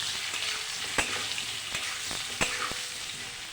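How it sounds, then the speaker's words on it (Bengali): Boiled potatoes fry with salt and turmeric in a pan, giving a steady soft sizzle broken by several sharp spatula knocks as they are stirred; no voices. "হলুদ দিয়ে একটু নাড়াচাড়া দিয়ে ভেজে নেব"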